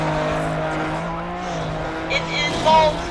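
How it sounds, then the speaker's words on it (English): A rally car slides on ice in a video game, with a steady engine drone running throughout and a brief rising skid near the end, while a voice talks over it. "It involves rally car on ice"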